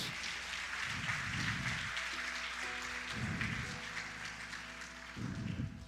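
A church congregation applauding, several bursts of clapping rising and falling over a sustained keyboard chord, moderately loud and without speech.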